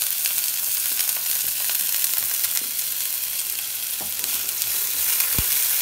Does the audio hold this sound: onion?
yes